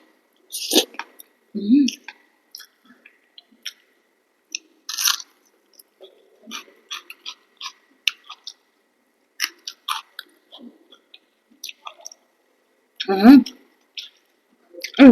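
Someone eats rice mixed with spicy katla fish curry and eggplant, with scattered close chewing and biting sounds and soft squishes between short pauses, and brief bursts of speech now and then.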